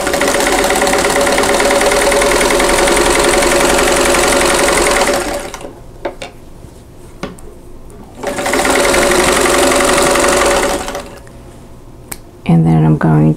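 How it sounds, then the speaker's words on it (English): Sewing machine stitching along a drawn line on a quilt block, running loud and steady in two long bursts with a quiet pause between them as the piece is repositioned. "So I'm going to just go ahead and sew on this drawn line."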